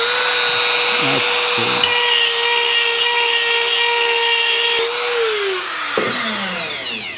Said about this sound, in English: to do that, I've got my Dremel on a carbide bit